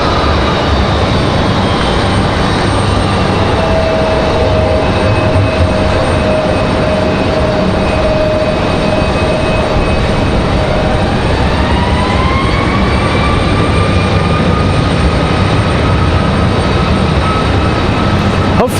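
A United Boeing 737 takes off at Raleigh-Durham International Airport with a loud, sustained jet roar and whining turbine tones that climb in pitch as the engines spool up, filling the whole stretch without any talk.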